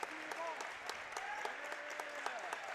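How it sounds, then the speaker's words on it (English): Boys basketball crowd at Slinger clapping in a steady rhythmic beat for defense, a full gym heard at a distance, with a commentator talking over it. "The Slinger faithful clapping their hands for defense now."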